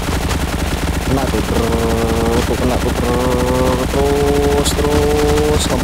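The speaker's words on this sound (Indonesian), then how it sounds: "terus nembak nih, kita nembak apaan nih, nembak guys" Rapid bursts of automatic gunfire from the Frag Pro Shooter mobile game, loud and continuous over looping game music, with brief breaks between volleys and a couple of sharp effects near the end.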